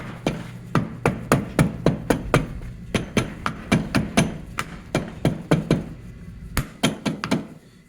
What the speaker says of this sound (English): you can use a rubber mallet to put the dust cap back in place